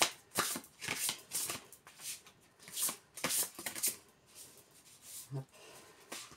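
Large tarot cards being shuffled by hand, a run of crisp riffling bursts coming in uneven rhythm, close and fairly quiet, with light talking.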